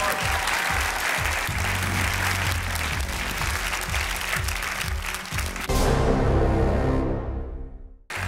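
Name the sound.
audience applauding a contestant on X-Factor Armenia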